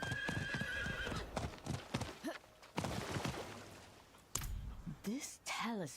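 Horse hooves clip-clop steadily while a horse neighs several times, loud and close, with voices talking and game sounds underneath, from the video game Diablo 4.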